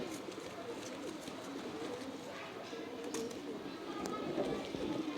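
Pigeons in a loft that holds army pigeons and other pigeon breeds coo softly and repeatedly over a low background hum, several birds overlapping at close range with faint rustling.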